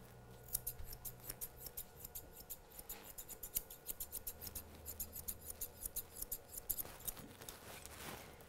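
Curved grooming scissors trim a miniature poodle's coat in a steady run of quick, crisp snips, close and fairly loud, with short pauses between bursts and no talking.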